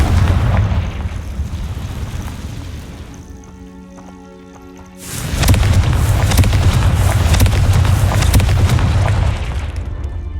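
The Confringo fire spell exploding in the Hogwarts Legacy game, loud booming blasts with a rumbling roar, a brief lull with a tonal hum, then another sustained burst of crackling explosions.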